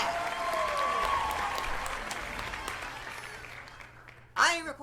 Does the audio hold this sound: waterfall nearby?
no